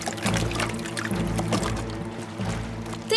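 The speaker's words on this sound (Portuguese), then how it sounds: "Oh, o barco está a meter água." Water pours and trickles into a leaking boat in an animated cartoon, a soft splashing gurgle running under music.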